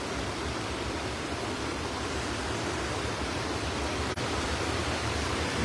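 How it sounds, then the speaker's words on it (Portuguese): A steady, dense roar of heavy water gushes over the spillway wall of the Araras reservoir (Açude Paulo Sarasate) in April 2023, loud and continuous with no speech. "Muita água jorrando aí na parede do sangradouro, do açude."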